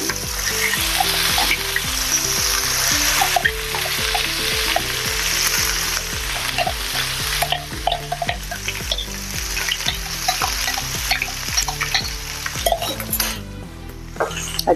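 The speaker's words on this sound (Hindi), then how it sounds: "और अभी इसमें हम डालेंगे अपना मसाला जो मिक्सी जार में हमने पीसा था।" A ground masala paste with cumin fries in hot oil, giving a loud, continuous sizzle throughout. Steady stirring and the clink of a utensil against the pan run through it, with no talking.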